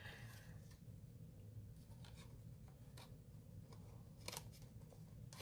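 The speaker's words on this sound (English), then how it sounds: "So I'm going to use a pair of scissors." Scissors snip through paper while a pop-out Z-fold card is being made, giving soft, close, papery cuts and rubbing in an otherwise quiet room.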